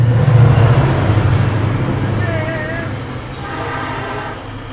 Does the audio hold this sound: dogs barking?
no